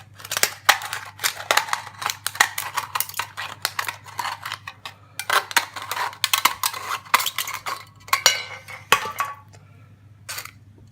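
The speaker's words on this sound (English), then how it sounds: "I'm just going to grab some scissors." Scissors snipping through a thin aluminium Coke can, a run of close, sharp metallic crunches and clicks in irregular bursts with brief pauses, ending in a few isolated snips.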